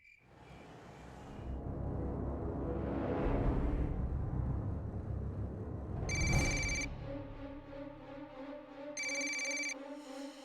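A telephone rings in two bursts of bright electronic trilling over a rumbling, noisy background with insect-like chirping, the second ring coming a few seconds after the first.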